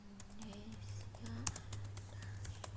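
Fast typing on a computer keyboard while entering text in an Excel spreadsheet, a run of light, irregular key clicks close by over a low hum, with a brief voice at the start.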